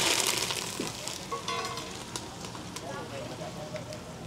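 Mustard seeds, cumin and asafoetida sizzle in hot oil for a Kathiyawadi tempering, a steady bright crackle strongest at the start, with people talking over it.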